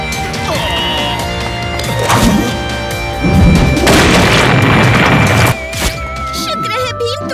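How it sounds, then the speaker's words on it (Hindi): A cartoon sticky bomb explosion bursts loudly with a crashing boom and rumbling debris, amid busy layered sound effects and music. "शुक्र है भीम, तुमने इस चिपकू धमाके को सही समय पर फेंक दिया।"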